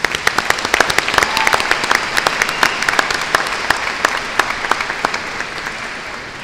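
Loud, sustained applause from a large commencement ceremony audience, dense clapping with sharp individual claps standing out, continuing without voices.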